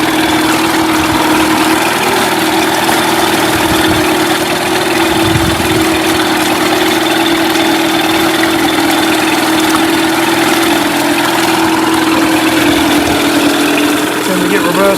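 A Mercury 8HP outboard motor idles steadily in gear with a constant low rumble and droning hum, running evenly throughout without revving up.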